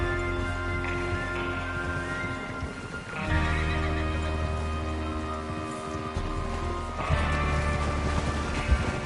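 Horses in a Red Dead style western game on PS4 whinny loudly and repeatedly over steady clip-clopping hooves, with a low background hum throughout and no speech.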